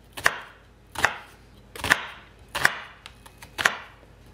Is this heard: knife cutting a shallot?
yes